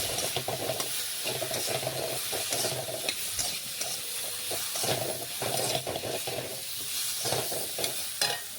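Potatoes frying in a pan as a spatula stirs them through the other ingredients, a steady close sizzle broken by repeated scraping strokes throughout, with no talking.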